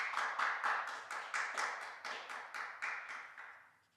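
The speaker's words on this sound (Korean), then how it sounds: "박수 한번 보내드리기 바랍니다" Audience applause during a Korean Christian talk show, after a reporter is thanked. Roughly a dozen crisp, evenly spaced claps ring out close by, then gradually fade and stop.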